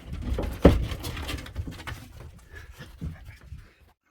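Dogs panting and pattering about on a remote off-grid Arizona homestead, close and fairly quiet, with quick breathy bursts and light footfalls scattered over a few seconds before fading to near silence.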